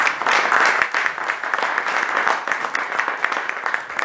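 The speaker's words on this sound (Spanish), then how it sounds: "Un aplauso." An audience at a book launch claps and applauds steadily for a few seconds, a dense, even wash of many hands at moderate loudness with no one speaking over it.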